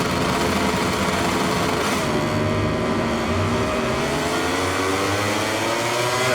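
A racing motorcycle engine at the race start in the video game MotoGP 22, a loud, steady high-pitched whine that rises as the bike launches, with no talk.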